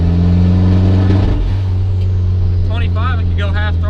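A 1994 turbocharged Mazda Miata engine runs at a steady, loud rev, with a low droning hum and an uneven, misfiring roughness near the middle, while someone talks over the end.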